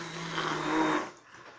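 A handheld mixer blending a soap base whirs steadily with a high, buzzing motor drone, then cuts off abruptly, leaving a quieter fading rumble.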